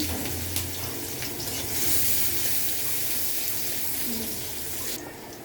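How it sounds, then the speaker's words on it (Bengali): Dry red chillies frying in hot oil, a steady close hiss and sizzle running continuously without pause and without talk. "কিছু শুকনো মরিচ ভেজে নিব আগে"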